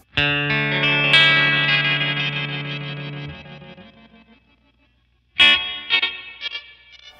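Guitar played through a Flamma FS03 delay pedal in its Rainbow mode: a sustained distorted chord rings out with shimmering pitch-stepped repeats, decays to silence, then a new strummed chord starts and echoes.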